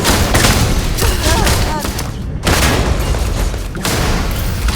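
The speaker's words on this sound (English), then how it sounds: "Nice shooting, guys." Sustained, loud gunfire from a Starborn sci-fi shooter, dense bursts with heavy booms that fill the clip, broken by a brief gap midway. Voices and game sounds mix underneath.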